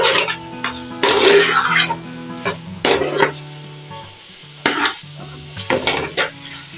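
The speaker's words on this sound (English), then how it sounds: "I'll give this a nice stir. I've not added my crayfish, I just want this to fry a little first." Sweet potato and yam frying in a pot, stirred with a utensil that scrapes and knocks against the pot in irregular bursts over a steady low sizzle.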